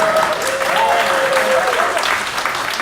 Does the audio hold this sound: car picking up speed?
no